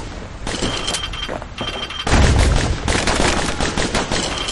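Rapid bursts of gunfire from dual slinger pistols in the action game Bastion, loud and continuous, with dense overlapping shots that grow heavier partway through.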